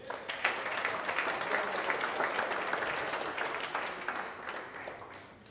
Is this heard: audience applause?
yes